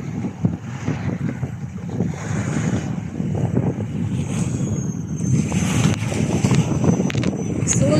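Steady wind blowing outdoors at Labrador Park, Singapore, a continuous gusty rush with microphone buffeting that holds throughout, with faint voices in the background.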